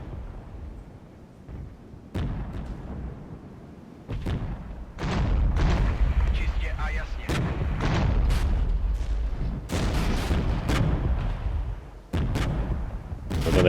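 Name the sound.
incoming artillery fire in video game Regiments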